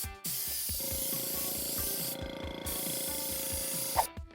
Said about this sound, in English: I'm gonna grab my airbrush and I'll give these a little bit of color before I assemble the flower.